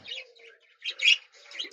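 Pet birds kept in a small bird-breeding setup chirp in short bursts of bright tweets, with a louder cluster in the middle, fairly close and with no talking.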